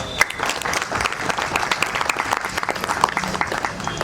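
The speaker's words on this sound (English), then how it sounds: "a huge round of applause for that" An audience at a She Shuttle launch event in Genome Valley claps in steady, dense applause that fills the whole stretch at moderate loudness.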